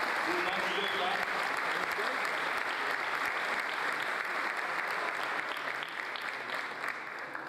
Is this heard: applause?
yes